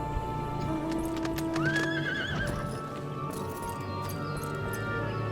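A horse in Final Fantasy XIV gallops with steady, clopping hoofbeats and lets out a clear, rising whinny early on, the hooves continuing under background game music without any talking.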